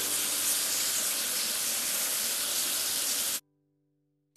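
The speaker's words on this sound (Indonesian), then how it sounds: "Sekarang, ayo bilas sisa busanya." A loud, steady hissing spray of water rinses soap foam off a tractor engine in a farming video game, running continuously for about three seconds before cutting off abruptly into silence.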